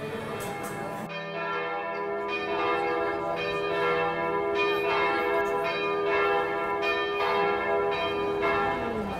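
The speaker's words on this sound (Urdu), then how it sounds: "کیا آپ کو اس چرچ کی گھنٹیوں کی آواز آ رہی ہے؟" Church bells ring out from a church that was once a mosque in Europe, loud, clear bell strikes repeating in a steady sequence with long ringing overtones that overlap throughout.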